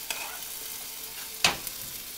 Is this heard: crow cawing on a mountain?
no